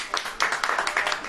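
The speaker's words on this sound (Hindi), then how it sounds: "ओह ताली बजाओ" A congregation at a Hindi church sermon claps together in a short burst of quick, fairly loud hand claps heard alone without talk.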